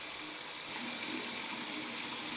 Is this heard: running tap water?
yes